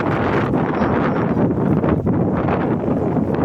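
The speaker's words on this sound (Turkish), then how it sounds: "Rüzgarın sesini videodan duyuyorsunuzdur, anlaşılıyordur." Continuous heavy wind buffeting the microphone in a park, a loud, rough roar that never lets up.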